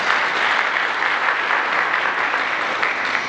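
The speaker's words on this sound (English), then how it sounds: "So I would say quick applause for our panelists." Steady, dense applause from a conference audience for a panel, sustained at an even level throughout with no pauses.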